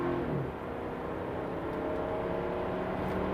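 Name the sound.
BMW 6 Series engine with paddle shifters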